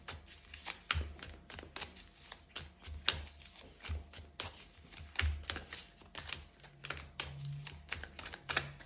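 Tarot cards are shuffled and drawn at close range, a quiet run of rapid riffling flicks and soft papery snaps in an uneven rhythm, with a few low thumps as cards are handled.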